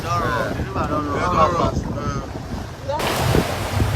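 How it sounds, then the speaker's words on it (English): Wind buffets the microphone over rushing river water and waves as a boat moves along, with a steady engine-like rumble and splashing throughout. "So we hop up back into the boat and sail off."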